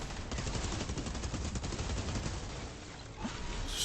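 Enemy gunfire in the shooter Outriders, dense rapid automatic bursts that rattle on without pause for several seconds, loud and close, then tail off near the end.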